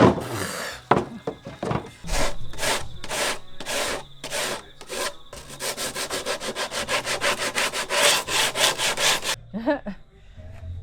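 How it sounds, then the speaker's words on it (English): A jigsaw cutting a circle out of wood, a loud close rasping saw that starts in short bursts, then runs in a fast steady stroke rhythm before stopping abruptly, with no talking. "I used a jigsaw and cut a circle."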